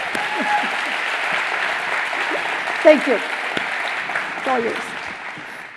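Sustained applause from a summit audience honoring a racing driver with a legacy award, a steady even wash of clapping with a voice speaking briefly over it in the middle and again near the end.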